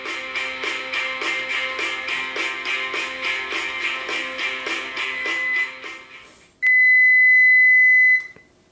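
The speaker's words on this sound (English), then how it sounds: "The timer is just rung for 18 minutes." A kitchen timer goes off after 18 minutes of baking cupcakes, with a fast, loud run of repeated electronic beeps followed by a steady, piercing tone lasting about two seconds before it cuts off.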